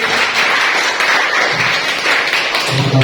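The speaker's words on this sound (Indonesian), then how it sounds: "Oke, tepuk tangan untuk kelompok satu." A class claps for group one in a classroom lesson, a dense, steady patter of many hands filling the whole short stretch at close range.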